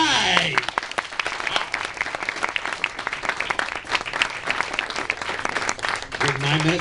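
An audience at a convention voice-acting panel claps loudly and steadily throughout, with scattered cheers, and a voice can be heard near the start and end.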